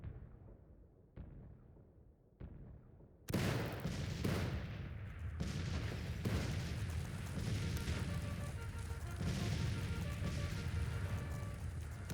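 Civil War cannon artillery fire in the Grand Tactician strategy game. Several sharp booms ring out first, then dense, continuous volleys of battlefield gunfire and explosions roar at full loudness to the end, with no talk.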